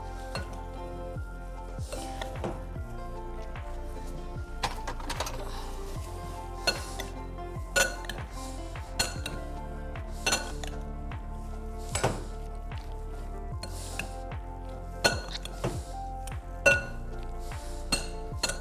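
A spoon clinks against a bowl while a mix of chopped carrot, macaroni, egg and potato with a little finely chopped chilli is stirred together, giving repeated irregular taps and scrapes over a steady low kitchen hum.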